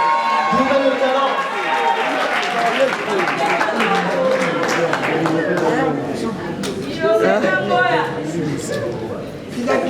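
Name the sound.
audience applauding an artist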